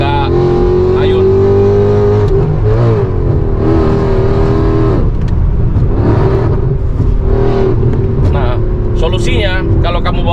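A supercharged 6.3-litre V8 in a Mercedes C63 AMG drones loudly from inside the cabin, its pitch rising and falling through revs on a highway, while someone talks over it throughout.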